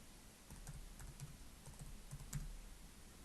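Fingers typing on a computer keyboard, a quiet run of soft, irregular key clicks close by with no speech.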